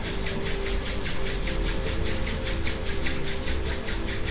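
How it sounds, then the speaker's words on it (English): Palms rubbed briskly together during a guided pranayama meditation, giving close, rhythmic swishing strokes that repeat evenly and steadily throughout with no talk. "Rub your palms."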